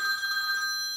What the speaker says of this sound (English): Going into pause so I can answer the phone.